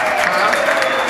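An audience gives a brief round of applause, a dense, even patter of many hands clapping at moderate loudness.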